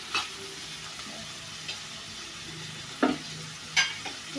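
Six green chillies fry in a hot pan as they are stirred, giving soft, sparse crackles and a few sharper sizzling bursts over a quiet, steady background.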